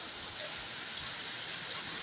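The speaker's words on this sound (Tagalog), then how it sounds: "Buti na lang umuulan." Steady rain falls during a restaurant fire in Cainta, Rizal, a dense even hiss of drops with no breaks and no voices.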